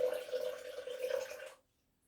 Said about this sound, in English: Put about 4 ounces of water into here.